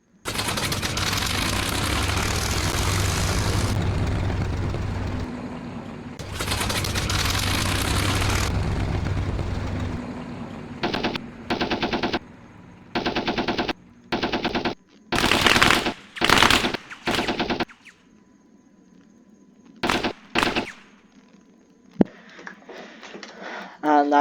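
Aircraft engine drone and machine-gun fire from the Arma 3 Flying Legends mod: long loud propeller-engine stretches, then short repeated bursts of gunfire separated by quieter engine hum.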